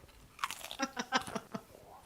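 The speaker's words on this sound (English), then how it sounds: "I can't hear you over the crunching." Crispy cinnamon sugar egg rolls being bitten and chewed up close, a run of sharp crunches in uneven rhythm for about two seconds, fairly quiet with no talk.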